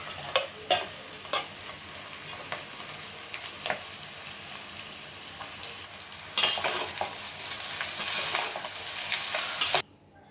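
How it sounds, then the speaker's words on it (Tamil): Cooked rice is stirred into okra and egg in a frying pan, with a spatula scraping in sparse close strokes, then a louder steady sizzle with stirring that cuts off abruptly near the end. "இப்போ நான் சாதத்தை அதில் கலக்கப்போம்"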